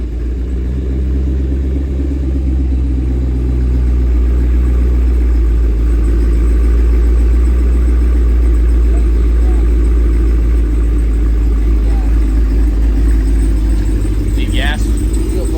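Cammed 2023 Cadillac Escalade V engine at idle, a loud, steady low rumble with a choppy pulsing throb that holds for about fifteen seconds, with some background voices.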